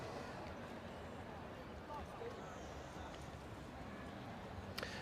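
Racehorse Deryan walks calmly around a racecourse paddock at a Dubai racing carnival, hooves clip-clopping steadily beneath a constant wash of crowd and commentary noise.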